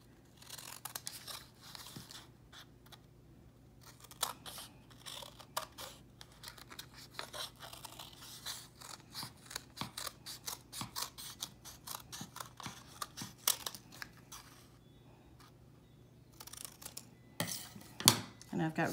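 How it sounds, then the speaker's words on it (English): Repeated crisp snips of scissors cutting through cardstock, close by and irregular, with a steady low hum underneath. "but I'm just gonna use scissors."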